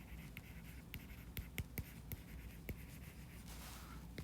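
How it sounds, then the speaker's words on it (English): Pen or chalk writing notes during a physics lecture on work, with a run of light, sharp taps and short scratches at an irregular pace, close and fairly quiet, with no speech over it. "Let's write that down."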